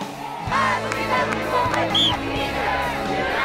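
A large crowd at a rally in downtown Raleigh chants and cheers, sustained voices rising and falling with shouts and whistles, loud and near with an announcer-like voice over it.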